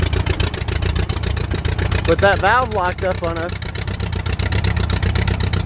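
Allis-Chalmers WD tractor, converted to a forklift, with its engine running in road gear: a steady, loud, low chugging throughout, with someone talking over it.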